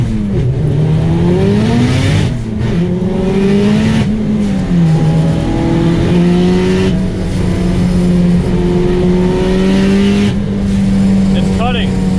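Built Honda Civic with an LS VTEC engine at a drag race, revving hard and holding a steady high drone with brief boost-cut stutters, loud and close, with voices talking over it.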